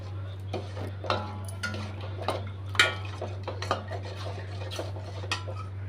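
Rice flour dough thickening in a pan for traditional butter puttu is stirred with a utensil, giving irregular scraping clinks and taps against the metal over a steady low hum, close and moderately loud.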